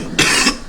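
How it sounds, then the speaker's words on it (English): A person gives two sharp, close coughs, loud and harsh, separated by a brief pause. "excuse me for my coughing"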